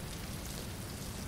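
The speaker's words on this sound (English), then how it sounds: "Oh, it's raining." Steady rain falls in the survival video game Stranded Deep, a dense, even hiss of drops that runs without pause for the whole short stretch, fairly quiet and with no voices.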